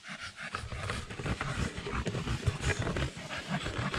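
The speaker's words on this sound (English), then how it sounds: "the worn out mine exploring dog" A tired dog pants rapidly and heavily after a mine-exploring hike in the Keweenaw Peninsula, close and continuous, with breathy rhythmic huffs and no talking.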